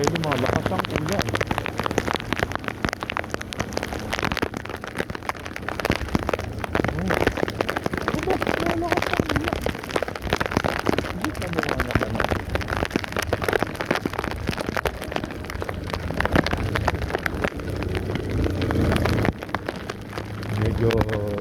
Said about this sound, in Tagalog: ay lumalakas ang ulan